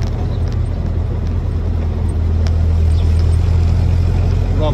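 A replica WW2 jeep engine runs steadily at low speed in slow traffic, giving a loud, constant low rumble with faint road noise and no clear shifts in pitch.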